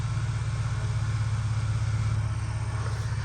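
A zero-turn mower engine runs steadily during a test after a repair, a close, even low drone that holds without a break and carries no voices.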